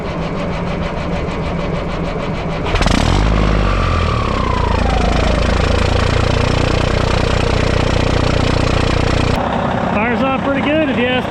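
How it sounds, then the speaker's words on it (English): An engine cold-starting in 15 degree weather: a starter cranks, then the engine catches with a loud burst and settles into a rough, steady idle close by, ending with a quieter whine as it drops off. "I'll try to do you guys like a little cold start video"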